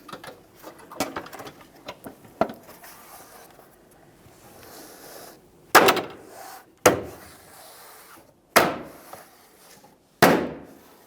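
A plastic trim panel with license plate bracket snaps into place on a 2015-2020 Ford F-150 bumper: faint fumbling clicks, then four sharp, separated clunks as it is pressed into its ports.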